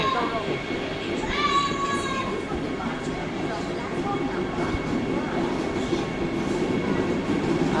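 Continuous heavy rail rumble at a station, with brief metallic squeals and background chatter throughout.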